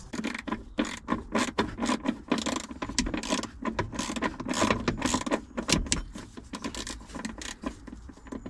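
Someone undoes the battery clamp in an Alfa Romeo Giulia during a battery swap. Close, quiet ratcheting clicks and metallic tool taps come in irregular bursts, with no talking.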